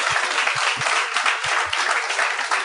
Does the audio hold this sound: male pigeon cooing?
no